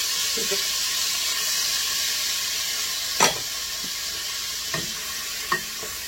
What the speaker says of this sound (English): I'm going to pour my onions in.